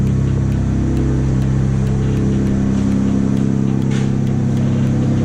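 A Mitsubishi Galant VR4 engine fitted with a test pipe runs at a steady, rumbling idle with a deep, even drone throughout, close by and fairly loud, with no voices.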